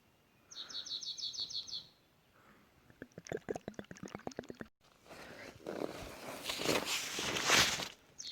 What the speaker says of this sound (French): puis des oiseaux qui nous accueillent.